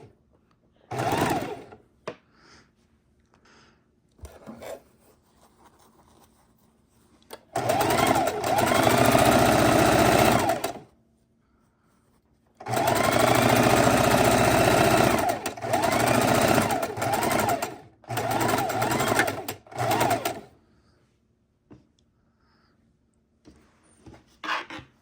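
A sewing machine stitches quilt block pieces together in loud running bursts of several seconds each, separated by short pauses and a few light handling knocks.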